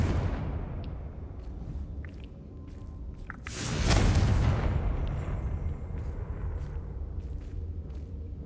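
A Confringo fire spell explodes in the Hogwarts Legacy video game, a loud deep blast that swells and slowly fades over a rumbling low background, with a few small crackles and pops scattered around it.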